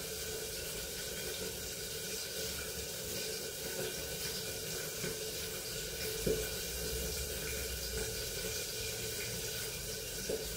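A kitchen tap runs in a steady, faint stream as peeled potatoes are washed under it, with no speech.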